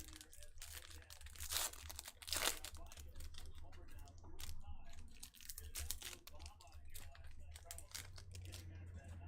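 Trading cards being pulled out of a tightly jammed cardboard box, soft crinkling and scraping with a couple of sharper rustling bursts, quiet and close, with faint speech in the background.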